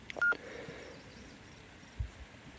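A single short electronic beep from the keypad of a Yaesu FT-60R handheld radio as the band button is pressed, faint and brief over quiet room background.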